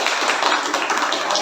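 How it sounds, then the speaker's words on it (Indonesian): Classroom applause from students after a lesson, a dense, steady burst of many hands clapping together at close range that stays level for its whole short length. "Tepuk tangan dulu."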